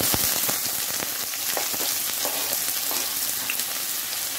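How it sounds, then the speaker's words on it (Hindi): Chopped onion hits hot sunflower oil in a pan and sizzles loudly and steadily, with small crackles and pops throughout and no voices. "प्याज को मैं पहले इसमें डाल दूंगी।"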